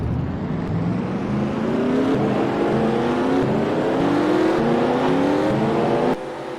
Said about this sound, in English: And the engines are fired.